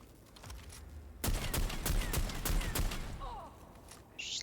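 A volley of las bolt shots in Necromunda: Underhive Wars, a quick run of sharp zapping cracks at moderate volume followed by a few quieter electronic tones.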